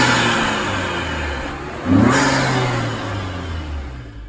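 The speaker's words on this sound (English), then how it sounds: "A performance filter or intake coupled with an ECU tune can get you 5, 6, maybe even 10 extra horsepower, along with better acceleration and some sick intake noises." Car engine fitted with a performance air intake and ECU tune revs up, a steady mid-range engine drone swelling to a louder surge near the middle before easing back, close and alone.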